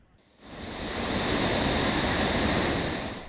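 Sea waves wash onto a shoreline in a loud, broad rush that swells after half a second and holds steady, close and alone with no voices.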